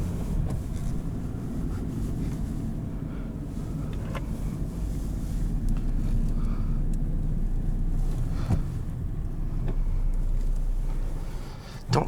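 A 2018 Honda Civic LX with a manual gearbox creeps away on ice, its low engine and drivetrain rumble steady and close throughout, with faint wind noise and a few small clicks and knocks over the hum.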